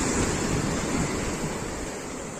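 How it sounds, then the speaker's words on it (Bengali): Broad, steady rush of big river waves washing continuously, loud and close, with a wind-like roar and no voices. "হ্যাঁ, একটা বড় ঢেউ আছে, কত বড় ঢেউ।"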